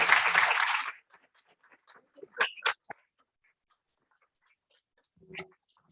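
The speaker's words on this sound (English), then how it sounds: "So please help me give them a round of applause." An audience at a school district board meeting gives a short burst of applause that cuts off after about a second, leaving a quiet room with small clicks and faint movement.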